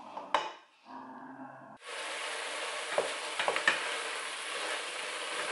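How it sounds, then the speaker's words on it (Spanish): Food for homemade peas fries and sizzles in a pan while being stirred, a steady hiss after a brief scrape and clatter, with occasional utensil knocks against the pan. "hasta que esto se vaya friendo un poquito."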